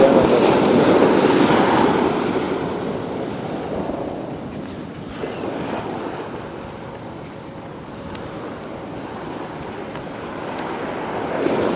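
Pacific Ocean surf washing onto a beach, a broad continuous rush that swells, eases off in the middle, then builds again, with wind buffeting the microphone and no voices.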